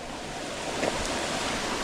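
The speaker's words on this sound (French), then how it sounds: "Ça c'est la cascade de Tuf." The Tuf cascade, a waterfall, gives off a steady, broad rushing roar of falling water with some wind noise, heard alone and at an even level.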